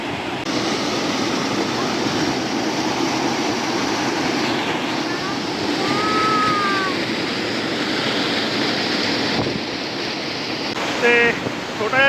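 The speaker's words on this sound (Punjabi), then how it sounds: "ਖੜਕਾ ਬਹੁਤ ਆ ਪਾਣੀ ਦਾ ਇੱਥੇ ਮੇਰੀ ਆਵਾਜ਼ ਸ਼ਾਇਦ ਤੁਹਾਨੂੰ ਘੱਟ ਸੁਣਦੀ ਹੋਵੇ" A waterfall on a family trek gives a loud, unbroken roar of rushing water that fills the whole scene, with brief faint voices or chirps surfacing over it.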